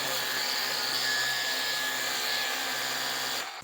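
A Ryobi 18V cordless power washer sprays with a steady, loud hissing roar at close range, holding constant before cutting off at the end.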